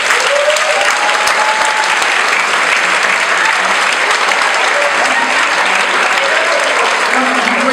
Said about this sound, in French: Tout le monde peut les applaudir.